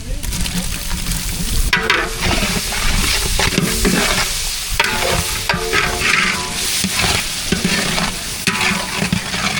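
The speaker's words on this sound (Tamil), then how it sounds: "வெங்காயம் பாருங்க நல்லா வதங்கிருச்சு இது கூட பச்சை மிளகாய் சேர்த்துக்கலாம்" Onions and green chillies sauté in a pan as the base for mutton biryani, with loud continuous sizzling and frying broken by repeated scraping stirs of a spoon, close and busy throughout.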